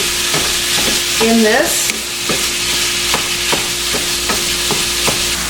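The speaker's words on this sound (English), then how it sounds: "once our ground beef is done cooking, we're going to take it out of our pan" Ground beef fries in a pan with a loud, continuous crackling sizzle and regular scraping taps from a stirring utensil, plus a brief rising tonal squeak early on; a few spoken words pass quietly.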